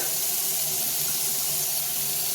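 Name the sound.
hot water running from a tap into a pot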